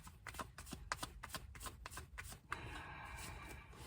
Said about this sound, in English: I can't even shuffle the cards.